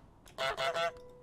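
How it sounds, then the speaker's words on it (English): In Untitled Goose Game, a goose lets out a quick run of three loud, nasal honks in just over a second, clear and alone. "Goose go honk."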